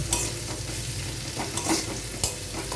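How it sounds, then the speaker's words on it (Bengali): Potatoes fry in a wok while being stirred. A continuous close sizzle is broken by a few distinct scraping strokes of the spatula. No one speaks. "আলুটাকে একটু এর সঙ্গে মিশিয়ে নিয়ে বেশ ঢেকে ঢেকে আলুটা মিনিট 2-3 আমি ভেজে নেব"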